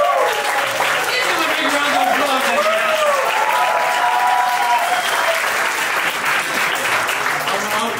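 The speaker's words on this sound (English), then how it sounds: "By a round of applause." Applause from a standup comedy audience in Luxembourg, a sustained wash of clapping with a voice talking over it and some tonal cheering or whooping mixed in.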